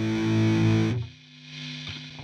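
Electric guitar chord through the Overloud TH3 Dist 1, a software emulation of the Boss DS1 distortion pedal, rings loud and fuzzy, then cuts off abruptly into a quieter, thinner tail of sustained notes.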